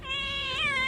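A single kitten meows in one drawn-out, wavering cry lasting under a second, close and fairly loud with no voices over it.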